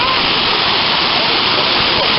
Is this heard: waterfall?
yes